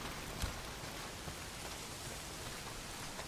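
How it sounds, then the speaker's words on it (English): Steady heavy rain hissing down in the Days Gone video game, a dense continuous wash of drops on surfaces with one brief thump early on and no voices. "Well, not if it's pissing down rain."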